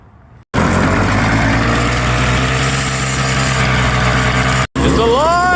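A Toro snowblower engine, rescued from the junkyard, fires up after a brief quiet moment and runs with a loud, steady rumbling idle close by, briefly cutting out once before continuing.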